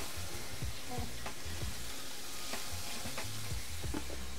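Chicken breast sizzles steadily in a hot pan for a stir-fry, a bright continuous crackle, with occasional scraping and stirring clatter close by.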